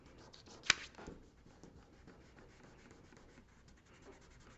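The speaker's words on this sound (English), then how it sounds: "I'm going to use my finger just to rub this a bit." A fingertip rubs pencil shading on paper in a soft, faint, steady scuffing, with one sharper tap or scrape near the start and quiet rubbing strokes continuing after.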